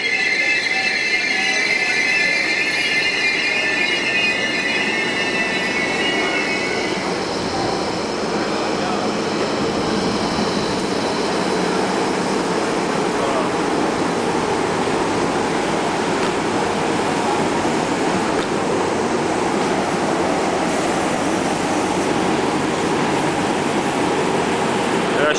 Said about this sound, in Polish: Śmieszna żółta lokomotywa. Chyba Siemens.